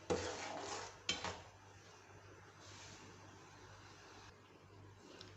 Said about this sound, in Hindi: चम्मच मुसलसल चलाते जाएंगे।